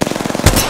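Rapid automatic gunfire in Apex Legends, a quick train of close, loud shots followed by a heavier burst of impacts in under a second.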